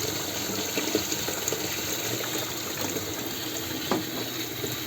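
A slow, thin stream of water runs into a water meter, giving a quiet continuous trickle over a steady hum, with a few small drips and splashes standing out.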